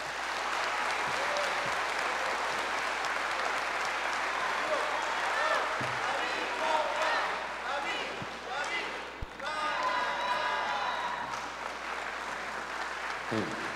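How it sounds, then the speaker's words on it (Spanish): Loud, sustained applause from a crowd at a municipal government report event in Acajete, Puebla, honoring the town's mayor; dense steady clapping fills the whole stretch, with a few sharp knocks and voices mixed in. "Fuerte esos aplausos para nuestro presidente municipal"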